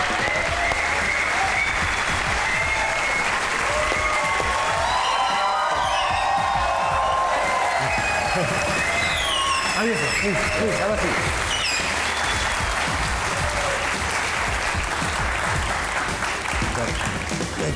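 Dense, sustained applause from a studio audience welcoming guests onto a show, loud and continuous throughout, with someone speaking briefly over it.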